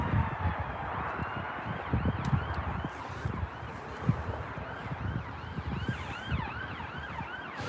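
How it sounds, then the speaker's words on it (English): An ambulance siren wails in repeated rising and falling sweeps, moderately distant at Newcastle Airport in gusty wind, over a continuous rumble of traffic and engines. "There's an ambulance."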